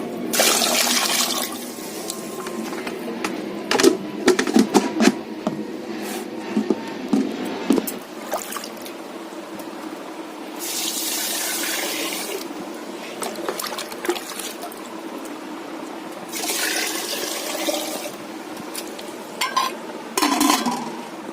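Tap water runs and splashes in repeated bursts while a hilsa fish is washed by hand in a home kitchen, with clattering handling noises between the gushes and no talk.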